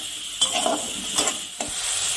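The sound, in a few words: chopped tomatoes frying and being stirred in a pan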